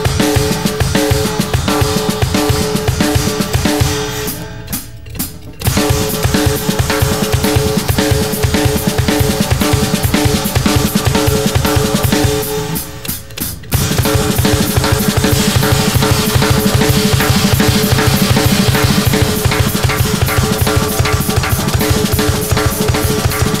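A drum kit plays a groove in five-beat time, a dense, loud and steady stream of hits with two brief dips in the pattern, no talking over it.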